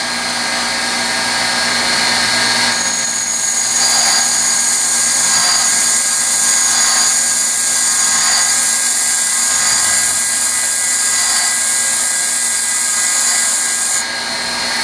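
A carbon steel lathe tool ground on a bench grinder, giving a continuous high-pitched whine and hiss that stays loud and steady from start to finish, with no talking.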